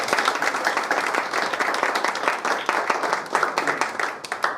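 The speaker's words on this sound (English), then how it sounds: "Please join me in giving them a round of applause for the work so far this year." A room full of people applauding, steady dense clapping that holds strong, then thins out and tapers near the end.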